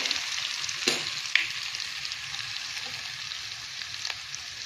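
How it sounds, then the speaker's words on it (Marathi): Coarsely ground cumin and coconut sizzle in a hot tempering, a steady bright frying hiss with a couple of light clinks from stirring, close by and without speech. "आता मी इथे हे आपण वाटून घेतलेले जाडसर जिरे आणि खोबरं टाकणार आहे।"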